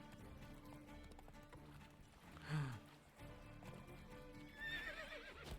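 Hooves clip-clop in a steady run while a horse lets out a shrill whinny in The Witcher 3: Wild Hunt, over a busy game soundtrack with music and effects.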